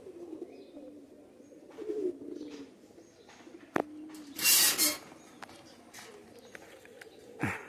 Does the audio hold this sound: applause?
no